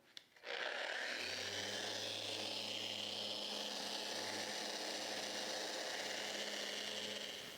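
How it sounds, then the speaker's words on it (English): A random orbital sander hums steadily close by on a wooden table, with a constant gritty whir of abrasive against wood running without pause. "I'm gonna get this all sanded down and get a fresh coat of finish on it."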